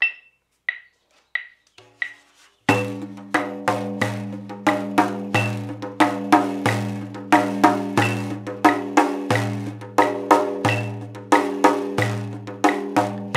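Drums play a straight-feel duple rhythm, a steady marching one-two pattern of ringing, resonant hits. A few sparse taps come first, then the full groove settles into an even, repeating pulse with no talking.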